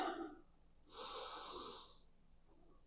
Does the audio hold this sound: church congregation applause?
no